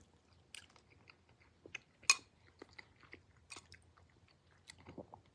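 Crisp, close bites and crunches of a cooked carrot from wood-fired chicken noodle soup, a few scattered chews spaced irregularly in an otherwise quiet setting.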